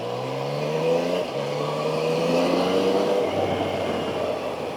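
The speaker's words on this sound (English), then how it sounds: "I'm just riding around Victoria Island, Lagos at the moment with this wonderful piece of machine." A 2017 Yamaha Tracer 900 motorcycle ridden around Victoria Island, Lagos, its engine droning loudly and rising in pitch through the gears, with shifts and wind noise and no talking.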